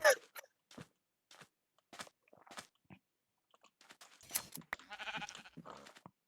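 Sheep bleat in an old version of Minecraft while sheep are being sheared. The short calls are scattered between sparse footsteps and other game sounds, quiet and with no talk.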